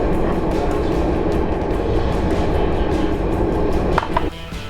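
A high-speed train on a Dutch high-speed line runs with a constant, dense rumble and rolling hiss, heard from inside, ending with a brief clatter as the noise drops.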